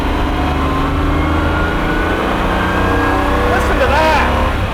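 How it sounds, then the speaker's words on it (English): A Jaguar XJR-15 race car engine roars loudly and steadily at high revs, with a brief warbling whine near the end. "That's what a race car sounds like."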